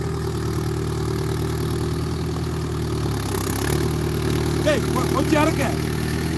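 A vehicle's engine idles steadily beside a paddy field, a loud, even low drone that runs throughout while people talk close by over it.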